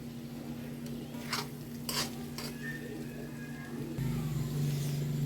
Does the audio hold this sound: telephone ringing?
no